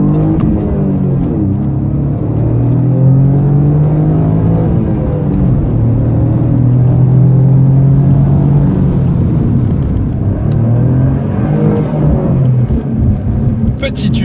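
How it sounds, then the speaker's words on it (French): A loud sports car engine drones while driving, a steady low rumble with rising and falling pitch as it accelerates and eases off, close and continuous beneath someone talking. "surtout que le moteur est assez bruyant"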